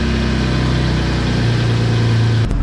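A Saturn car's engine idles steadily while warming up, a loud close rumble with a constant low hum, then a brief knock or clunk near the end.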